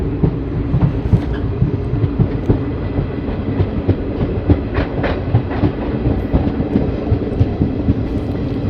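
Malda-Howrah Intercity Express running via Azimganj, a loud steady rumble of wheels on track with rhythmic clickety-clack beats, heard close and continuous with no voices.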